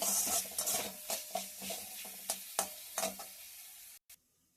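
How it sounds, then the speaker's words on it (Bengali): Tomato, salt and turmeric sizzle in a pan while being stirred for a snakehead fish curry, a close frying hiss broken by repeated scraping stirs, ending abruptly in near silence. "এবারে দিয়ে দিলাম নুন আর হলুদ, আরও ভালোভাবে কষিয়ে নেব।"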